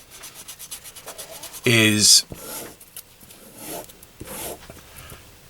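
Body filler on a car is sanded by hand, with one loud, harsh rasping stroke of about half a second and fainter rubbing around it, while someone talks.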